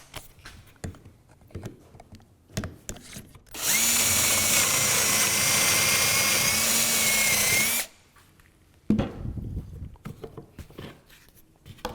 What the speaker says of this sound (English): let me set this up and drill a hole